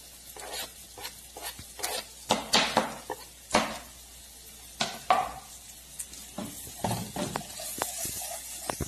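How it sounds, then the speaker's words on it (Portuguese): Carrot sizzles in hot fat in a pan for farofa, with a steady frying hiss broken by frequent sharp scrapes and clacks of stirring against the pan, close and fairly loud, with no talking. "Então eu vou colocar a cenoura aqui na gordura quente e ela vai dando uma refogadinha rápida e vai liberando uma cor."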